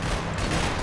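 Machine gun fire in the video game Max Payne 3, a brief, loud, dense burst of rapid shots.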